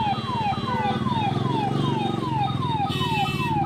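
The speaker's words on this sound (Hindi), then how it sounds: "सायरन पे सायरन बजाए जा रहे हैं।" Police vehicle sirens wail repeatedly in a rhythmic falling pattern, loud and close, stuck in a traffic jam on a rainy day with a low engine and traffic rumble underneath throughout.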